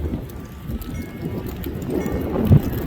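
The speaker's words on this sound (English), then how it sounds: "it's windy up here, girls and boys" Wind buffets the microphone in a continuous low rumble on a mountain section of the Appalachian Trail, gusting slightly louder near the end, with no voices.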